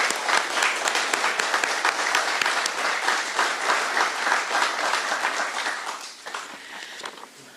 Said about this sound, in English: One more round of applause for the governor.